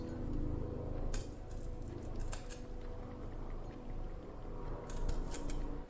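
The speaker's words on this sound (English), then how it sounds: "We're going to cut it up into little slices." Fresh ginger is cut into little slices for a Chinese herbal formula: a few crisp, sharp snips spaced out over quiet room tone, some in quick pairs.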